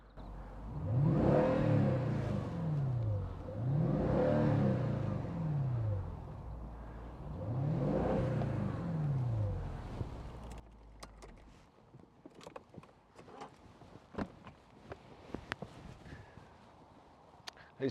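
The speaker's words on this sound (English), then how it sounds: "engine noise, exhaust note, whatever you want to say" A 2010 Mercedes-Benz E500 5.5-litre V8 Sport Cabriolet with the roof down, driving through a tunnel, its exhaust note rising and falling in three loud revving surges, followed by quieter road rumble and scattered clicks.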